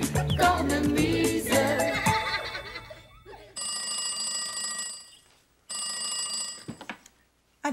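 A telephone rings twice in bursts of bright electronic trilling separated by a short pause, loud and close, following a stretch of music and laughter.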